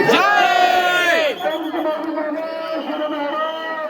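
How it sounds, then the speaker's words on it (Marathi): A dense crowd of pilgrims on the Pandharpur wari, packed onto a jammed bridge, with loud overlapping chanting and shouting up close, strong harmonic voices in the first second and a steady murmuring throng after. "ही गर्दी बघा तुम्ही एकदा"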